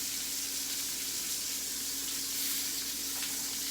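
Steak searing in a hot pan gives a steady, close, bright sizzle that holds evenly throughout with no talking over it.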